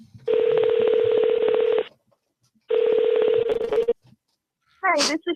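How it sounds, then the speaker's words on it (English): A telephone number is dialed as a rapid run of touch-tone beeps in two loud bursts, each several seconds long, separated by a brief pause and followed by a short chirp. "We're going to dial her back."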